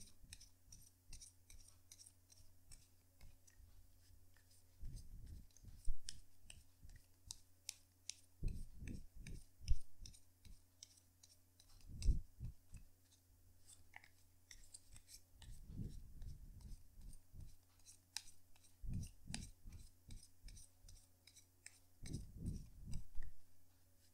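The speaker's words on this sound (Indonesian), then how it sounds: "Jadi sebentar ya kartunya dikocok dulu sebelum kita mulai" Tarot cards shuffled by hand, giving repeated bursts of papery riffling and clicking in short clusters every few seconds, close and fairly quiet over a steady low hum.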